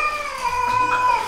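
A cat gives a single drawn-out, whining meow, close and fairly loud, sliding slowly in pitch across about a second.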